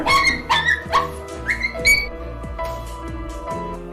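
A dog whimpers and yips in a run of high, wavering cries, several short bursts close together and then a few softer whines trailing off, close and fairly loud with no talking.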